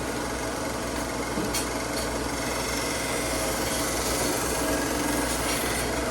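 A knife edge grinds against an electric belt sander in a steady, close, continuous abrasive hiss and rasp over the motor's running drone, with no one talking.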